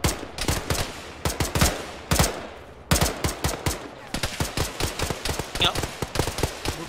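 Rapid gunfire rattles through a jungle battle in a military video game, with sharp bursts and single shots in uneven clusters, loud and close, over a quiet background of game ambience.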